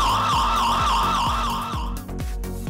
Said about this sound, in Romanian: În acest moment, camera declanșează sirena, ce oferă o putere a decibelilor peste medie.